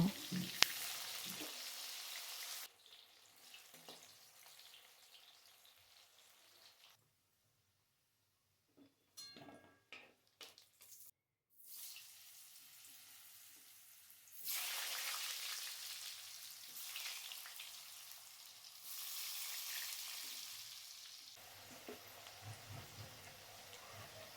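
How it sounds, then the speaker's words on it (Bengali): Vegetables, including carrot, frying in a pan for Bengali shukto give a hissing sizzle that drops to near silence in the middle, then returns loud and steady, with occasional stirring clinks. "সব সবজি আমি এক এক করে ভেজে এইভাবে তুলে নেব"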